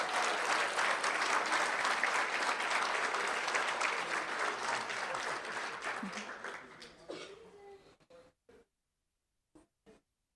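Big round of audience applause at a board meeting, full dense clapping that gradually fades out over about eight seconds, then silence.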